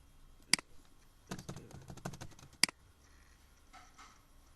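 A computer keyboard gives a few sharp, isolated key presses and a brief cluster of quieter taps, close and sparse, with pauses in between.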